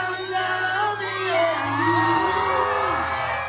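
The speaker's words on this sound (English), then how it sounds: "The crowd went wild" A crowd at a live singing performance cheers and whoops, bright yells rising and overlapping for a few seconds, fairly dense and somewhat distant, with a steady low hum underneath.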